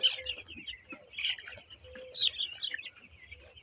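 Nine-day-old chickens in a poultry brooding shed with rice-husk litter, giving soft clucks and high, bright peeping chirps in quick, scattered bursts close by.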